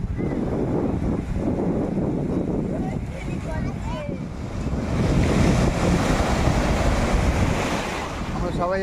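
Sea waves on Digha beach: a loud, constant wash of surf with gusting wind across the microphone, swelling stronger midway, as people talk nearby.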